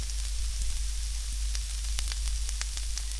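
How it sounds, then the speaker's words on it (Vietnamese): Minced lemongrass and garlic fry in a pan with a steady loud sizzle and scattered small pops and crackles. No one talks over it. "Mình phi cho cái phần xả tỏi này nó săn lại."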